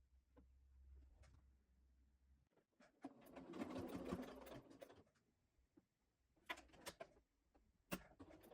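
A sewing machine stitching down a sleeve hem on a milkmaid-style dress, faint rapid needle bursts starting and stopping, with a longer run in the middle and short clicks between.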